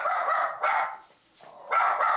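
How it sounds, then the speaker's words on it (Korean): A dog at a hair salon barks at customers, loud and close, in two sustained bursts separated by a brief lull. "도담이가 짖어서 손님들이 바로 나간 거네요."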